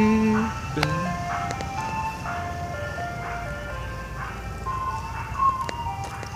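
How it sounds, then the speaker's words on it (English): An ice cream truck passing a house on a Saturday afternoon plays its tinkly jingle melody, a stepping tune over the hum of the vehicle's motor, heard moderately close and steady throughout. "There goes the ice cream truck."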